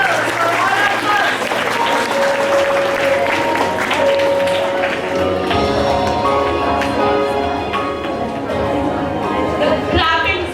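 A school assembly audience on Mother's Day breaks into loud, sustained applause, dense clapping from a large crowd filling the hall, with voices and music-like tones mixed beneath.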